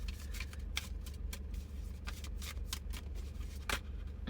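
Tarot cards are shuffled in quick irregular bursts of crisp riffling and flicking, close and fairly loud, with short pauses between bursts and no voices.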